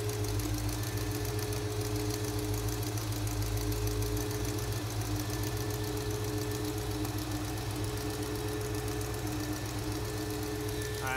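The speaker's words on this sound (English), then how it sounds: "Trying to get a little wild with this very mild engine." A 1970 Oldsmobile Cutlass V8, abandoned fifteen years and newly revived, runs with a steady, rough idle and a close, loud low rumble with rhythmic pulsing and light knocking, the engine blipped slightly throughout.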